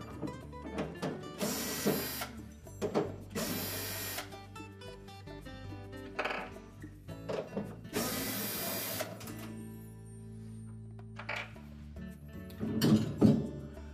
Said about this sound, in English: we just need to take these 2 screws out at the top of the evaporator cover